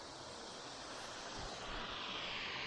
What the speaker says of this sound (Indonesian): aliran sungai deras banget men.